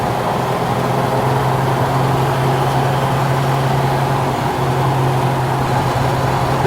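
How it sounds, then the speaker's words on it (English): A 1950 Chevrolet 5-window pickup drives northbound on the I-5 freeway, its engine a steady, loud drone with a constant low hum and road roar throughout, no talking. "Now we're going up onto the freeway, going northbound on I-5"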